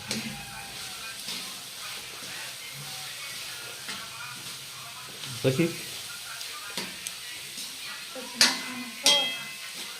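Cabbage, onion and chillies sizzle steadily in a hot oil tempering, a soft continuous frying hiss with a few sharper clatters of utensils near the end, while a voice talks briefly.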